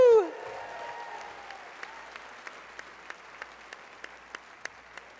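An audience at a Fort Wayne celebrity dance show applauds a judge's welcome with sustained, even clapping, opening with a brief voice and continuing steadily to the end.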